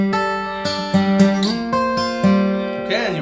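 A guitar plays a short phrase from a song: clear plucked notes in an even rhythm, including a sliding note, ringing clean and close with no talking.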